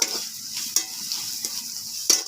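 Ginger paste, chili powder and turmeric powder fry in a pan for a rohu fish curry, a bright steady sizzle broken by several scraping stirs of a spoon, close up with no voice.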